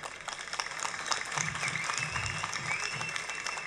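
Faint, continuous clapping from an audience at a speech during the Thirumuruga festival in Swamimalai, Kumbakonam, an even wash of hands heard from a distance with no break.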